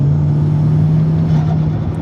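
A big-turbo Chevy Cruze engine runs loud and close under partial throttle, holding a steady droning note with a slight rise in revs, with no talk.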